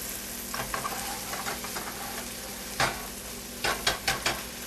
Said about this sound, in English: We don't want them to brown, but we want to saute them so they're soft.